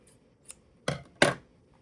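Scissors snipping crochet yarn after finishing a bucket hat, two sharp close crisp cuts following a faint lighter click, in an otherwise quiet room.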